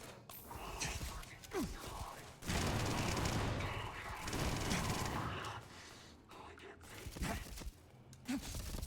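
Snubbie shotgun in the video game Starfield firing in rapid sustained bursts with an enhanced fire rate, dense blasts broken by short pauses and mechanical clicks.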